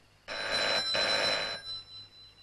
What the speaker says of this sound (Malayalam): ഇത് ഫോൺ അടിക്കുന്ന ശബ്ദമാണ്